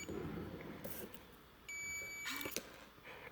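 A KR-S80LC access control card reader gives a few short electronic beeps, one sustained tone in the middle and brief chirps around it, fairly quiet against a faint room background.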